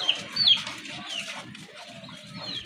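Pigeons kept at a farm that breeds colourful pigeons give soft, low, repeated cooing close by, with a brief higher chirp near the start.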